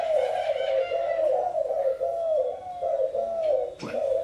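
Repeated soft, throaty coos from a spotted dove in a steady rhythmic pattern, close and clear, with a brief rustle near the end.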